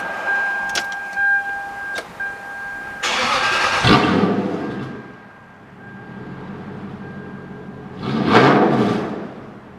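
A Lexus LS400 car engine, unused for a week, cranks and catches, roaring up before dropping to an idle, then revving once more near the end.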